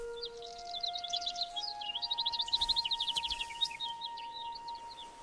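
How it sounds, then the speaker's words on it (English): Several birds sing and chirp in rapid trilling phrases, fairly close and clear, with a couple of steady tonal hums underneath and a brief louder stretch of quick repeated notes midway. "The birds."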